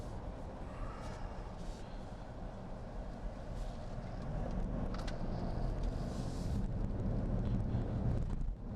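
A 2018 Jeep Grand Cherokee SRT drives in track mode, its engine a steady low rumble with road and wind roar heard from inside the cabin, growing louder and fuller about halfway through, with no talking.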